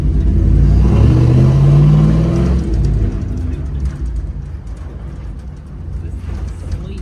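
Truck engine revving hard as the driver gives it gas, a loud rising roar that peaks then drops back into a rumbling idle with brief voices.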